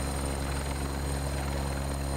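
A Bell 412 helicopter in the X-Plane flight simulator gives a steady, loud rotor drone with a deep low thump and a continuous engine whine, unchanging throughout.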